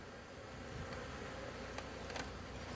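Honeybees buzz in a dense, steady drone during a rooftop hive cut-out, faint but continuous, with a few brief ticks and no talking.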